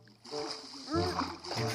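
A Minecraft character plunging into water, a splashy burst of game sound beginning abruptly, with a bright swirl midway, heard under a voice talking over it.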